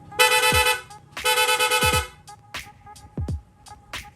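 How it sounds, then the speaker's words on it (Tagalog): Several loud horn blasts from a Sniper 155 motorcycle fitted with a PIAA horn, two long honks followed by quicker short toots, with brief pauses between. "Rapid horn."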